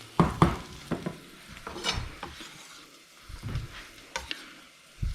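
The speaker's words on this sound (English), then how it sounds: "We're gonna add the garlic, and we're gonna add that chili." Garlic and halved chili go into a hot pan and sizzle softly, punctuated by scattered utensil scrapes and clinks against the pan, close up and fairly quiet.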